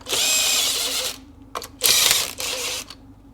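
Ratcheting wrench cranking down bolts on a 2003 Ski-Doo Rev 600 snowmobile engine during a rebuild, heard as close, quick rasping bursts of clicking separated by short pauses, with no talk.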